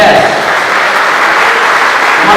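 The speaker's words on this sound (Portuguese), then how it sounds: "Vamos dar uma salva de palmas para que Ele merece?" A church congregation applauds together during a Portuguese-language sermon, a steady dense wash of many hands clapping that holds at an even, loud level throughout.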